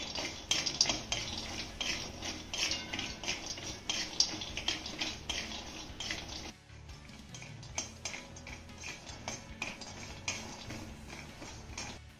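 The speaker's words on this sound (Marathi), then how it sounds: "आता हे काजू आणि बदाम हे देखील आपल्याला चांगले खमंग खरपूस भाजून घ्यायचे।" Cashews and almonds roasting in a pan give a near, steady run of dry clinks, rattles and spatula scrapes against metal as the nuts are stirred, with no talking.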